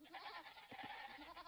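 Sheep bleating from an Age of Empires 2 match, a couple of short nasal bleats over a busy, steady bed of game noise, moderately close and fairly loud.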